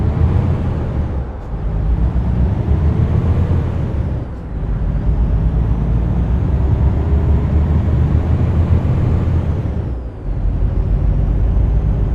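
A heavy truck drones loudly and steadily on the highway in American Truck Simulator. Its deep diesel rumble dips briefly a few times, with a faint airy hiss near the end.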